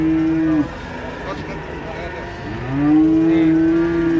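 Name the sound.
giant cow mooing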